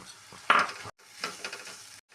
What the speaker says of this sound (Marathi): हे सर्व मसाले आपण एकत्र करून घेऊया.